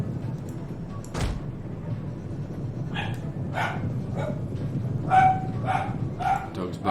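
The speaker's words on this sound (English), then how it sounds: "Dog's barking." Dog barking in the Total War: Attila battle game, a series of short yaps and barks at moderate distance over a constant low rumble of battle ambience.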